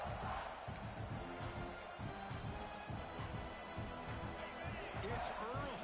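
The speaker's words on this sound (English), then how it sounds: "It's early, but this crowd is fired up. Listen to this noise here." A college football video game stadium crowd roars in a dense, sustained wash of noise, with a commentator talking over it throughout.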